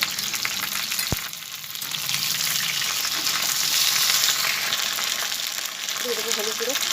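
Ginger, cumin and green chili paste hits hot oil in a kadai with a loud, steady sizzle, broken by occasional stirring scrapes.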